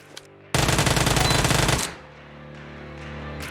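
An Uzi fires in the mobile game PUBG Mobile, a loud rapid burst of about a second and a half after a short quiet moment, then fades into a low hum.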